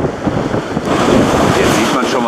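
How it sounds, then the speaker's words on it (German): Strong wind buffets the microphone on the Baltic coast at Sellin on Rügen, with waves rolling and breaking underneath in a steady, loud, broadband roar. "die Wellen, die drauf einschlagen"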